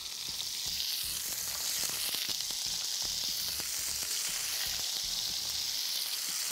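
Fish fries in a pan with a loud, continuous close-up sizzle, a dense crackling hiss that stays even throughout with no pauses or voices.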